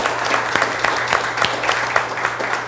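An audience at a forum applauds in a dense, steady patter of many hands clapping, fairly close and loud, with a few sharper individual claps standing out.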